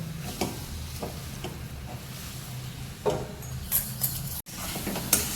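Green coconut barfi mixture is stirred in a pan, soft scraping strokes and a faint sizzle repeating at an uneven pace, close and fairly quiet, with no voices.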